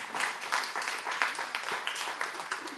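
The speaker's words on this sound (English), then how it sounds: "I want all of you to applaud everyone else in the room." Room full of people at a live church and nonprofit gathering applauding one another, dense continuous clapping at moderate distance for a few seconds.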